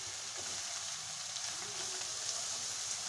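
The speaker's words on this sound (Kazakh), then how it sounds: "Сәбізімізді қуырып," Carrots sizzle and crackle steadily in a hot pan on top of frying onions, a constant close frying hiss with no voices.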